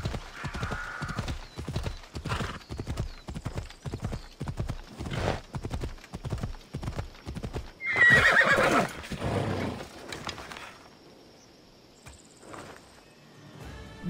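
A horse wearing a unicorn skin in Assassin's Creed Odyssey trots with rhythmic clip-clop hoofbeats, then lets out a loud whinny before fading to quiet with insect chirps in the background.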